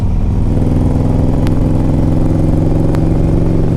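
The big 103 engine of a Harley-Davidson Street Glide CVO motorcycle runs loud and close, a steady low throbbing rumble held throughout.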